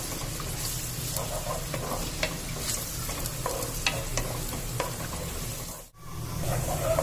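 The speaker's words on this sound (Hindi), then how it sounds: "तो चलिए थोड़ा भून लेते हैं प्याज को" Onions and whole garam masala fry in a pan for chicken kofta, a soft continuous sizzle with light scattered stirring clicks, fairly quiet and without talk, briefly dropping out near the end.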